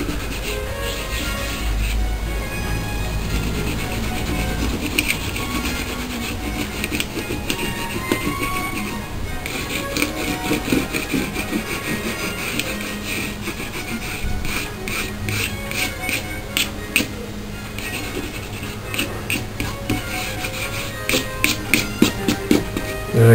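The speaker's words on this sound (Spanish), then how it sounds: "ahora hay que secarlo para quitar la goma de reserva" Masking fluid is rubbed off a dried watercolour painting, making a steady papery scrubbing that breaks into quicker, sharper rubbing strokes toward the end.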